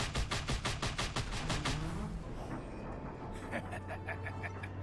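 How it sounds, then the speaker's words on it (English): Rapid bursts of automatic gunfire shooting destructible objects in the Just Cause 2 video game, with a quick rattling volley followed by scattered shots and a low rumble. "I think this can be destroyed if you shoot, yeah."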